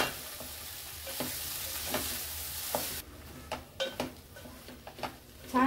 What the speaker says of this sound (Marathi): आणि भाजी आणि डाळ छान अशी मसाल्यामध्ये परतून घेऊया